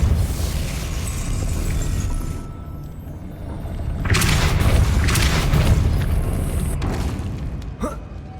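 A Depulso spell fires in a Harry Potter video game, giving a deep, booming magical blast that swells into rushing noise, with a second surge a few seconds later.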